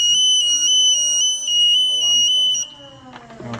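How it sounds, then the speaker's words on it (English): A Niftylift HR28 SP85 access platform sounds its alarm, a steady high electronic tone that holds for about two and a half seconds and then cuts out, followed by faint clicks and handling noise. "alarm sound."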